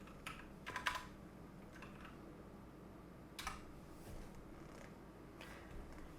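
Keys clatter faintly on a computer keyboard in a few short scattered bursts over a low steady background hum, with no talking.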